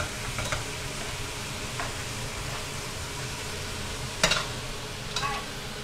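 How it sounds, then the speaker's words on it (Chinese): Pork slices with ginger are stir-fried in a wok, a continuous soft sizzle broken by a few sharp clinks and scrapes of the spatula. "来炒一炒哎"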